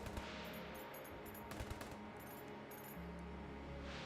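Rapid automatic gunfire from a Mac 10 submachine gun in the Enter the Gungeon video game, a dense crackling burst running steadily through the whole stretch over a thick low game rumble and music, with short louder spikes partway through.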